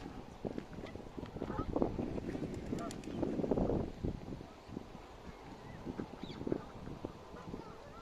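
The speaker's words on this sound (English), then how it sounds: "we've got the rest of the group here, ducks and gulls" A busy flock of waterbirds, with ducks quacking and honking calls overlapping in a continuous outdoor chatter, fairly close, with light wind noise.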